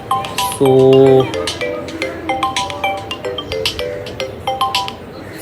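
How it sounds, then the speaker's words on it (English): A phone rings with an incoming call: a loud, sustained melodic ringtone burst lasting about half a second, then a string of softer chiming beeps and clicks, with a brief spoken word near the start. "my phone is ringing, my wife is calling"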